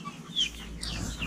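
KUB chickens clucking: short, scratchy cluck and chirp calls from one or more hens over a steady low background hum, fairly close and moderately loud.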